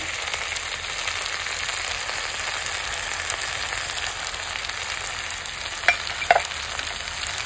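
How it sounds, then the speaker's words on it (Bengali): Masoor lentils hit a hot pan with a steady, dense sizzle that holds evenly throughout, with a couple of brief louder crackles near the end; no voices. "এবার আমি ডালটা দিয়ে দিচ্ছি।"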